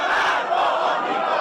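Rallying crowd in Iran, loud and dense, chanting and shouting together in a continuous roar with no gaps, heard up close.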